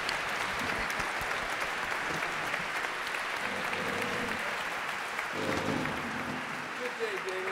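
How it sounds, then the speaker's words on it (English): Steady applause from an audience for a panel, dense and sustained throughout, with some voices mixed in beneath the clapping. "let's give a hand to the panel here"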